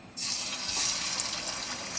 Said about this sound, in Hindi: अब हम इसको सिरके वाले पानी से निकाल के अच्छी तरह वॉश कर लेंगे